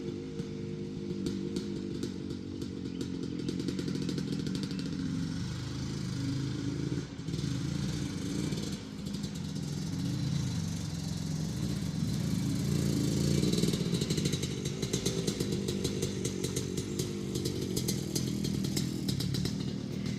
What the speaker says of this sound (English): So he'll idle, he'll hit quarter throttle, half throttle, 3/4 throttle, full throttle.